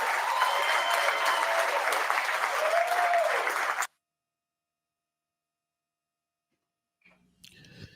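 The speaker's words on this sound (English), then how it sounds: "Can y'all give them a round of applause?" Audience applause at a speech honoring district attorneys and investigators, a dense, steady clapping crowd for about four seconds that then cuts off abruptly to silence, with faint noise returning near the end.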